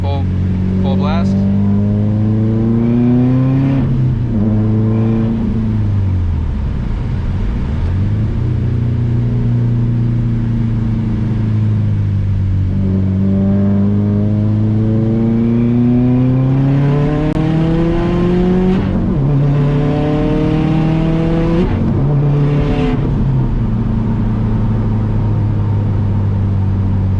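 A Subaru STI engine with the air conditioning running at full blast revs and accelerates, a loud droning note rising and falling in pitch over two long pulls, with someone talking over it.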